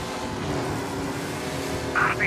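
Race car in Mafia Definitive Edition speeding through 1930s city streets, an engine droning with harmonic whine, other game noises and a short voice-like burst near the end.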